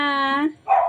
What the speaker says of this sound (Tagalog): ang aking aso ay sobrang maingay